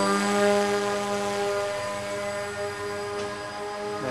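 RC model F-117 stealth plane with a propeller, flying slowly: a steady droning motor whine with a strong harmonic hum, sustained and moderately loud throughout, no talking.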